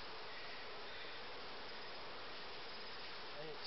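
Honey bees shaken off hive frames make a dense, continuous buzzing drone throughout, steady and moderately faint, with no voices.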